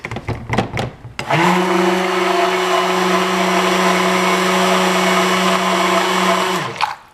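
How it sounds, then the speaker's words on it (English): A stick blender whirs steadily for about five seconds mixing cold process soap batter, a loud close motor drone that starts abruptly after a few knocks and cuts off at the end. "we're done with the stick blender"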